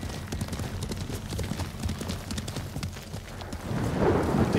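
Rapid rhythmic hoof thuds of a galloping horse in Ghost of Tsushima, steady and fairly close, swelling into a louder rumble toward the end.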